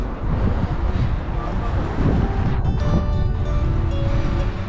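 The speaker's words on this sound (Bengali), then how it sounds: "বেশ ভালো হাওয়া দিচ্ছে" Strong wind buffeting the microphone on the coast of Wales in a loud, steady low rumble, with faint traffic sounds underneath.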